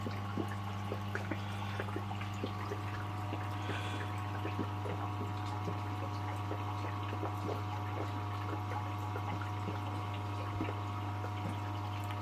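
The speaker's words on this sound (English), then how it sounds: "If you tip it up on edge, and the water, all the air will come out." Trapped air bubbling out of a handmade shrimp hide set into an aquarium tank, small glugs and trickles over the steady low hum of tank equipment, close and fairly quiet.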